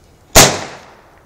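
A homemade carbide cannon fires one sharp, loud bang outdoors, followed by a short, fading echo.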